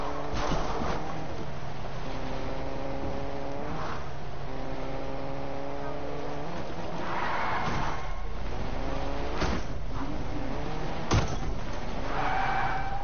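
A car engine hums steadily with rising and falling revs in a PS4 game, accompanied by occasional thuds and slams, continuous and moderately loud.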